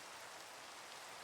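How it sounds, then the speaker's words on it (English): Steady, dense rain hiss from Minecraft weather, a soft even wash of falling drops with no talk over it. "Also, it's fucking raining. Except it isn't, because it doesn't rain up here, but it still plays the noises"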